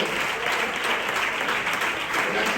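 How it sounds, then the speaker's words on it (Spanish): Steady applause from a church congregation during a worship service, a dense, even wash of clapping that holds at a constant level throughout, with no voices standing out above it. "Un aplauso para la bendición."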